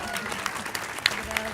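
Audience applause at a commemoration of 24 August 2018 honouring Spanish antifascists who liberated Paris, fairly soft and scattered with a few sharper claps, mixed with crowd murmur and voices.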